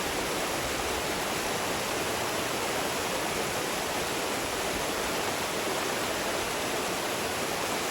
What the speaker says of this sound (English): You can really see how fast that water's moving right now.